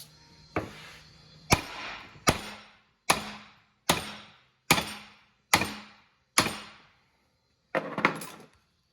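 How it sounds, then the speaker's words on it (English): Heavy hammer blows drive caps out of a 6.0 Powerstroke front-end metal part, about nine sharp ringing hits spaced roughly a second apart, each with a short metallic decay. "I'm gonna grab our biggest hammer and we're gonna drive these caps out"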